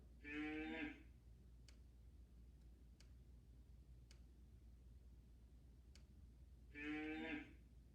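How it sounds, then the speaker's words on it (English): Two loud cow moos, one at the start and one near the end, each a drawn-out bellow with a steady low hum and faint ticks in the quiet stretch between them. "Cow, cow."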